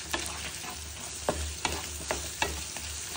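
Turmeric and salt being stirred into a frying mixture in oil, a steady broad sizzle broken by several sharp scraping strokes of the spoon against the pan, close and fairly loud, with no voices.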